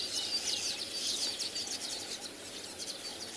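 Breeding birds calling on a morning safari in South Africa, a busy chorus of chirps and repeated trilling calls layered over each other, steady and moderately near, with no voices.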